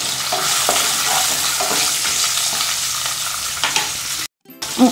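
Cashews fry in hot oil in a pan, a dense, bright sizzle with occasional spatula stirs, close and loud, ending in a brief drop-out and a final clatter, with no talk.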